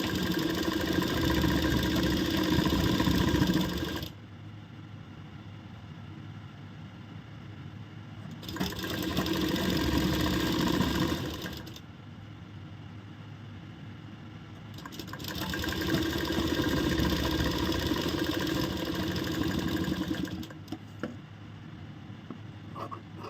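A sewing machine stitches fabric for a piped kurti in three long, even, humming runs, close and steady, separated by quieter pauses of a low background hum.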